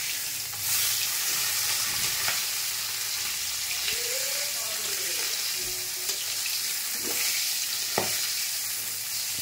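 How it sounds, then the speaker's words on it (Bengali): Parshe fish (gold-spot mullet) sizzling in hot oil in a pan, a steady close-up crackle with a few soft stirring or turning knocks, no voices. "প্রথমে আমি দুটো মাছ ভেজে নিচ্ছি, দুটো করেই ভাজছি।"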